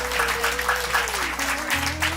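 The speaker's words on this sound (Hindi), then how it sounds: "तो जोरदार तालियां बजाइए हमारे साथियों के लिए।" Group applause for yoga participants after a demonstration of poses, with rhythmic clapping bursts throughout under a steady low tone and background music.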